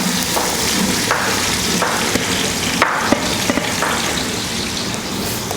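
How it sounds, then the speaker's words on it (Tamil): Large onions hit hot oil with cinnamon and cloves in a big pot of chicken biryani for forty people, giving a steady loud sizzle broken by occasional sharp stirring clicks. "இதில் பெரிய வெங்காயம் சேர்த்துக்கலாம்."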